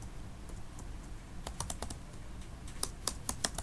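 Fingers tap on a computer keyboard while a program is written, with soft irregular clicks that grow into quick close keystrokes, and no voices.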